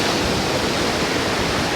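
Ocean water washes in on a hot sandy beach, a steady broad rushing surf close by with no breaks or talk.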